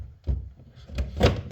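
An in-ceiling Klipsch Pro16 speaker mounting clamp locks into place with a few dull thunks and a final louder bang, close and with no voices.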